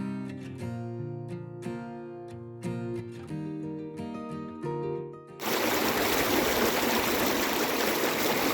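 Small river stream in the Cairngorms rushing loudly and steadily close by, a dense continuous wash of water that starts abruptly after a stretch of music.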